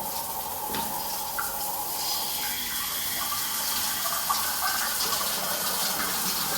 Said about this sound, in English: Water's going out the drain.